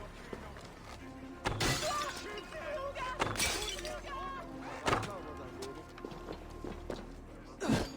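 Clay oil jars shatter repeatedly in Assassin's Creed Valhalla, several sharp crashing breaks spaced a second or two apart, mixed with footsteps and game sounds while a person talks over them.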